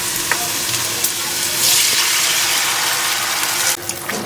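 Soy chili sauce thickened with cornflour hits a hot frying pan and sizzles loudly and steadily up close. The sizzle swells briefly midway, with a few light clinks of a stirring utensil.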